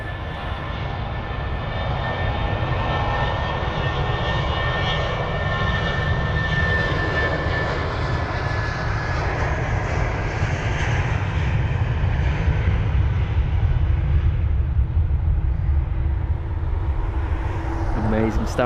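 A jet airliner takes off from Heathrow's runway 27 right, a loud sustained roar with a rising whine that holds steady for the whole stretch, with a voice talking over it.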